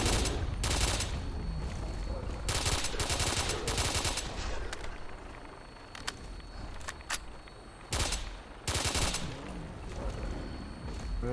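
Rifle fire in modded Fallout 4 comes in several sharp, rapid bursts of shots, dense early on, then a pause and a final loud volley, with scattered single shots in between.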